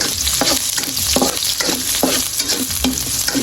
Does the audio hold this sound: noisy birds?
no